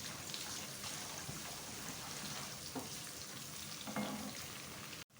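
Onion fries with whole spices such as cloves in a pan, making a soft, steady sizzle with faint stirring scrapes, fairly quiet and unbroken until a sudden cutoff.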